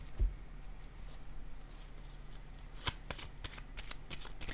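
Tarot cards being handled and set down on a table during a Scorpio reading, soft papery slides and light taps with a few sharper card snaps near the end, close and quiet without speech.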